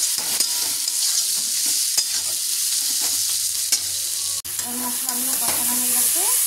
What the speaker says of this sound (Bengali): মশলাগুলো কষানো হয়ে গেছে।